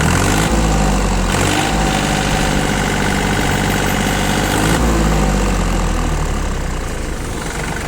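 A small four-wheel-drive mini tractor engine idles steadily and loudly nearby, a continuous low chugging rumble with slight vibration throughout, no speech.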